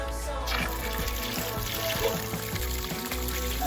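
Water gushes from a camper's hose line, turned on for the first time of the season at a campground, in a steady, continuous rushing flow that stays fairly loud throughout.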